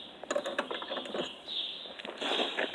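Allen bolt on a zero turn mower drivetrain being tightened, giving a run of faint ratcheting clicks and light metallic ticks, close and quiet, with no talking.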